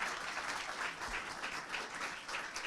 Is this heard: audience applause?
yes